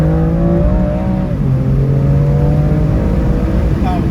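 A BMW M2 Competition engine pulls hard from inside the car, a steady droning tone that drops with a gear change and then builds again, loud and close, with voices faintly in the cabin.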